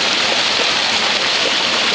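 Brook water rushing steadily past a micro hydro water wheel, a dense, continuous broadband wash of flowing water that stays loud and close with no pauses or voices.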